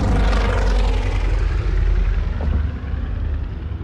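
WWII Luftwaffe propeller aircraft engines roar loud and close in a continuous heavy drone, fading slightly toward the end.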